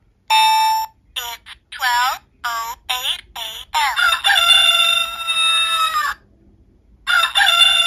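An old RadioShack talking watch plays its electronic rooster-crow alarm, a loud, tinny synthesized cock-a-doodle-doo in choppy bursts lasting several seconds, then cutting off and starting again near the end.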